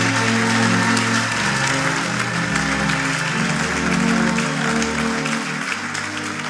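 A church congregation applauds and cheers, with dense sustained clapping and crowd noise filling the whole stretch at steady loudness, musical tones running underneath.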